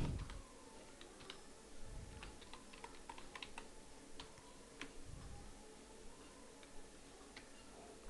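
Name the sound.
typing an email address on a computer keyboard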